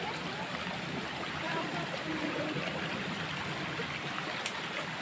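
A river stream flows steadily with a close, even rushing and gurgling wash throughout, with no pauses.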